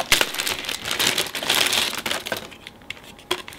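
Plastic packaging of an Atari-style squeezable stress joystick controller is unwrapped close by, a busy run of crinkling and crumpling that thins out toward the end, with no talk.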